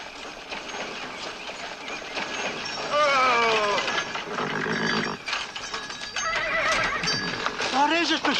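A horse whinnies in several loud, wavering neighs, with hooves clip-clopping and people talking throughout.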